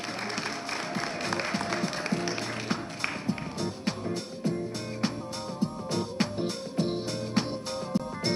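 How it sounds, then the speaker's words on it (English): Audience applause for plenary speakers at a scientific convention's annual meeting, with sharp claps rising over steady background music and growing stronger toward the end. "A round of applause for our plenary speakers."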